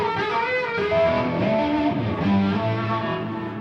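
Slide guitar played with the fingers, a short phrase of gliding, sustained notes with a slightly driven tone, played alone with no talking.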